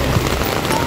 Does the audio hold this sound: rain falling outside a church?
yes